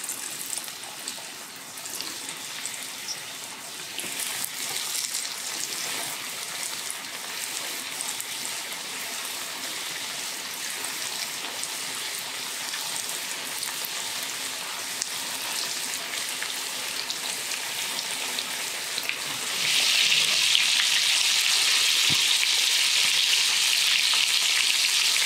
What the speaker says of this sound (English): my oil's probably heated behind me, so it's time to fry the fish